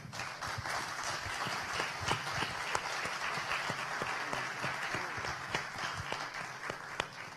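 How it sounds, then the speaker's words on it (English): An audience applauds a panel discussion with brisk, continuous clapping that holds steady and fairly close throughout, with a few sharper individual claps standing out. "let's share our enthusiasm with this panel by giving them an applause"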